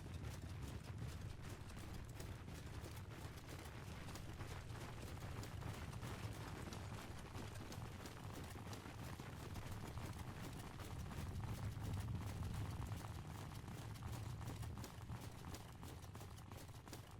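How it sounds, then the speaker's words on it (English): Horse archers galloping in Mount & Blade II Bannerlord, a dense continuous clatter of many hooves drumming together, steady and fairly distant, with no voices. "Oh, they did send their horse archers back around, though. Horse archer, charge!"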